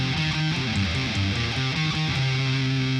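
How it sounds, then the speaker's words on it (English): An electric guitar rings out unmuted, its notes sustaining and running together in a steady, repeating pattern with a full, slightly driven tone, played alone without talk. "If we don't play with palm mute, it would sound like this."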